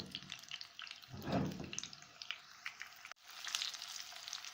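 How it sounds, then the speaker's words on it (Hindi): Gola kababs frying in a pan on medium flame, a soft continuous sizzle with a brief louder crackling swell and light clinks, faint and steady with no talking. "2 मिनट बस इस तरह फ्राई करेंगे मीडियम फ्लेम"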